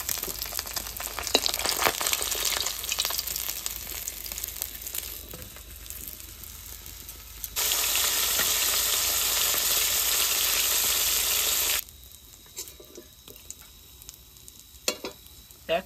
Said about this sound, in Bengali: মাছ ভাজা হয়ে গেছে, এবার তুলে নেবো।